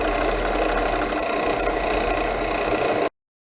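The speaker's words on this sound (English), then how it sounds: "So now we're going to give it a polish on the wire wheel." A knife blade pressed against a spinning wire wheel makes a loud, continuous motor whir with a rough, buzzing grind, close by, until it stops abruptly.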